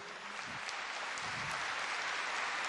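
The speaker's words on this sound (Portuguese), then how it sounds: "pode aplaudir." Congregation at a Catholic preaching service applauds together, a dense, steady clapping that holds loud and even throughout without talk over it.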